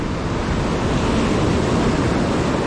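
Ocean surf breaking on a rocky shore while fishing for corvina, a loud, continuous wash of broadband roar with no talking.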